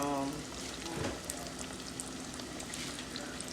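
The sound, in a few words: pork chops deep frying in a deep fryer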